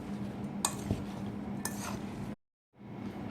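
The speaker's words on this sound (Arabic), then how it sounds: "كوبهم على الخضار واخلطهم مظبوط" Vegetables coated with turmeric, salt and sugar are stirred for Hijazi pickle, making soft repeated scraping and clinking against the bowl with a couple of sharper knocks, then a brief silence before the stirring resumes.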